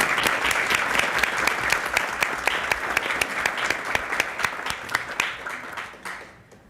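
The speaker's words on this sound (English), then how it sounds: "Let's give her a great big round of applause." A council meeting room breaks into loud, sustained applause for a newly sworn-in council member, Gabrielle Blatz. The dense clapping holds steady, then thins and fades out near the end.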